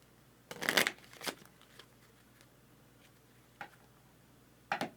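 Someone shuffles a deck of Nemo's War game cards, making a burst of riffling, flapping card noise followed by a few scattered taps and shuffles, close up in a quiet room.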